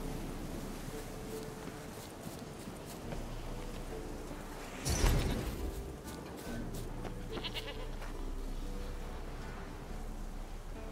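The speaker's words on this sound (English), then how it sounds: "Good close look of a goat." A goat bleats once in The Witcher 3: Wild Hunt, a single brief call rising over a soft, steady wind-like ambience in an open outdoor game setting.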